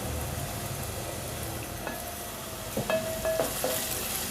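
Onion, garlic and ginger frying in oil in a pan while cooking brinjal curry, a steady close sizzle with a few clinks and scrapes of stirring toward the end.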